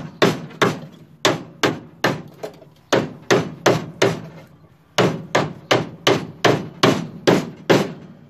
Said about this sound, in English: I use the sharpness of the chisel to separate the flanges.